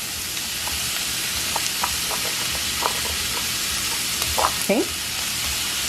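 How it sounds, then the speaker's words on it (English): Sofrito, olives and onions hit a hot pan and sizzle steadily, a close broadband frying hiss with a few crackles and pops throughout; one brief word is spoken. "Now I'm gonna add my sofrito, a few olives, optional. And I'm also going to add my onions."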